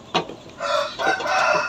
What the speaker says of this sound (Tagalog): Ingay ng mga manok ko.